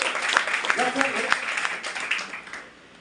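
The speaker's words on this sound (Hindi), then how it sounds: "उनके लिए भी ताली होनी चाहिए" An audience in a hall in Thane, at a direct selling plan presentation, claps for Devvrat Maurya: a brisk spatter of applause that tapers off, with a voice talking over it.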